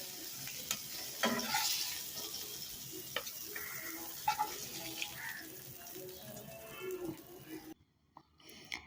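Small Chinese puti fish fry in oil in a pan, giving a soft, continuous sizzle with scattered clicks and utensil taps as the pieces are lifted out, then fading near the end.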